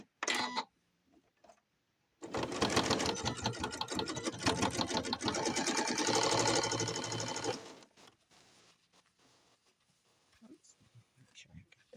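Sewing machine running steadily for about five seconds while stitching the side seams of leggings, a dense continuous mechanical whir, with brief handling noises and faint movement before and after.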